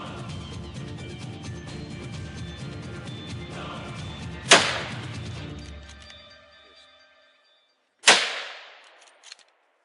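Two sharp, loud rifle shots ring out at wild boar in the outdoors about three and a half seconds apart, each with a short echoing tail. Rustling and movement can be heard before the first.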